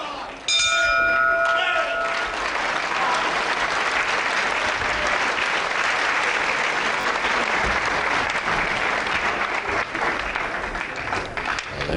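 A bell rings at the end of a wrestling round in a light-heavyweight bout, a few clear clangs near the start quickly swamped by loud, sustained crowd applause and cheering.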